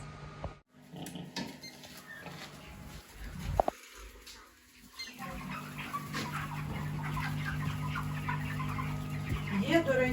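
Broiler chickens raised on a floor cluck and chatter continuously nearby, with a brief human voice and some handling noise early on.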